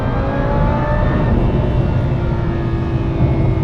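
Supercharged Lamborghini Huracan accelerating hard, a loud sustained engine roar with rising harmonic whine heard from close inside the car.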